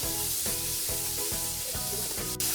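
Ground turkey and shallots fry in a pan, giving a steady loud sizzle broken by a regular scrape of stirring about twice a second.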